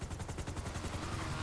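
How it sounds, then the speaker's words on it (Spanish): Rapid gunfire in a dense, continuous burst, loud and close, with sharp repeated cracks over a heavy low rumble and no voices. "Disparo."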